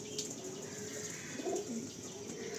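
Pigeons for sale cooing softly in a loft, with a low throaty coo standing out briefly amid faint chirps and background hiss.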